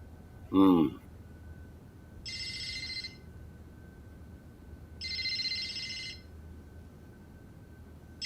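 A telephone rings in two separate bursts with a pause between them, each ring a buzzy trill at moderate level, after a brief voice at the start.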